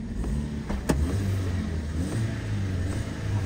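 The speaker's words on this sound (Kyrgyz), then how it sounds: "Мотор чөткө оталып турат." A 2015 Kia Rio with a 1.4-litre engine idles in a steady low rumble, close and even, with a brief sharp click partway through and no talk.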